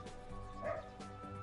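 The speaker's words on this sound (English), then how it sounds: "No, don't bark again after I say that." A dog in a video game gives a short bark set against a busy, low-level background of game sounds and music.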